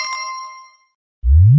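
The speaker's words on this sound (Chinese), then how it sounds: "快点一点我头上的叮咚鼓" A magical ding-dong drum chime in a Chinese children's cartoon: one loud, bright metallic ding that rings out and fades, a moment of silence, then a sudden rising whoosh effect.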